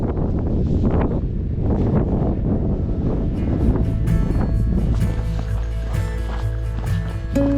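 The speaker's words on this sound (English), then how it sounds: "It's cold up here. It's windy" Strong wind on a mountain summit in the Adirondacks buffets the microphone in a steady low roar, with gusts swelling and easing throughout and no voices.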